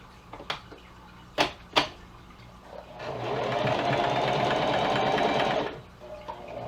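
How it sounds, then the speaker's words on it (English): A sewing machine runs a zigzag stitch on a T-shirt knit for about three seconds in one steady, close burst, with a few sharp clicks and handling knocks before it and quieter handling after it. "If you're doing this on the machine, a good way to do it is with a zigzag stitch."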